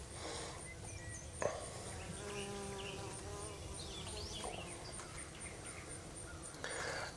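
A swarm of honeybees drones steadily inside a swarm trap, a dense outdoor buzzing that holds at moderate level throughout, with a few individual bees passing closer.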